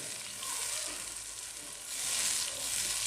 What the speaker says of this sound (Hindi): ये शामिल कर देंगे इसमें। और अब इसको अच्छे से आपने भूनना है।